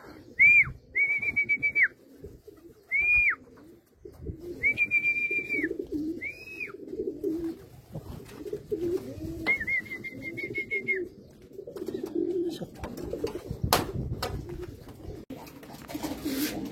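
Racing pigeons at the loft during an area pooling race, giving several clear, close whistling coos in short bursts, then a longer call, over a busy background of shuffling, wing and handling noises.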